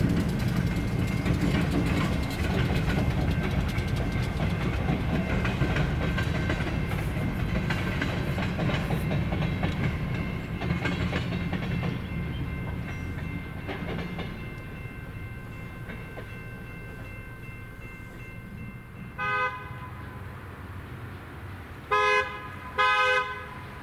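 A heavy Ohio Central freight train with B23-7R locomotives rumbles past up close, its rolling roar filling the scene, then the locomotive horn sounds in several short blasts near the end.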